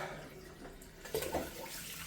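Water running from a broken bathroom tap during a shave, a faint steady hiss of flow with a brief louder splash partway through.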